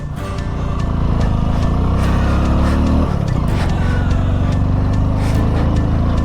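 Motorcycle stuck in sand on an off-road stretch in Ladakh, its engine revving hard and steadily up close, with the pitch dipping briefly partway through as the bike bogs down.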